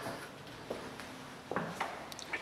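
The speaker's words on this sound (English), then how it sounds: "And this door opens up into the garage." An interior door from a house entry into a two-car garage is opened, with soft latch clicks and a few light knocks. The sounds are quiet and close, and there is no talking.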